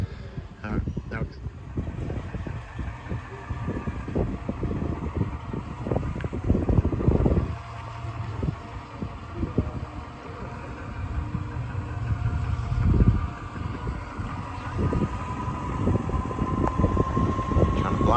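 Gusty wind buffets a microphone outdoors beside a 1981 Oldsmobile Cutlass, a loud rumbling roar that surges and eases throughout.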